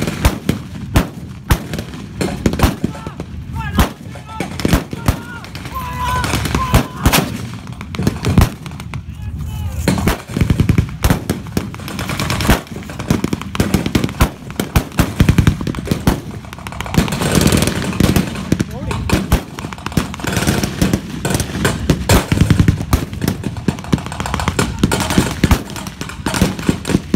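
Gunfire at a tank reenactment weekend in Aquino, Canada: rapid bursts of machine-gun fire and heavy booms crackle almost without pause, loud and close, with shouted commands mixed in.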